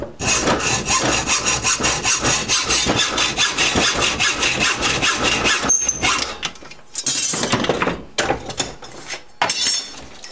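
A hand saw rasps through material in fast, steady back-and-forth strokes, cutting it to a 15-inch length for a Yamaha 250 saddle bag mount, loud and close, then slows into a few final broken cuts.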